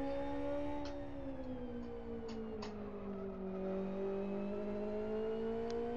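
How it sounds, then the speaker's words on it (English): A racing car in the Live For Speed driving simulator holds a steady, droning engine note that slowly falls and rises in pitch, with a few faint clicks as it runs over a rumble strip, heard alone without talk. "Hear that engine noise as you go over the rumble strip."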